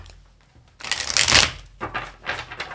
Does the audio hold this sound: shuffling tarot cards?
yes